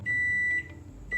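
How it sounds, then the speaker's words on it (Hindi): Microwave oven giving a long high electronic beep, then a short silence before the next beep begins, over a low hum of the running oven in a home kitchen. "अब मैं इसको माइक्रोवेव में डाल दूँगी"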